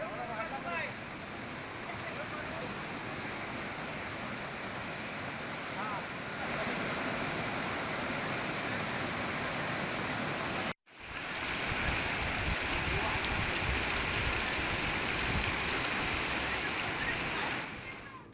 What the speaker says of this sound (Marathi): भूगावामध्ये कॉजवेवरून पाणी वाहू लागलाय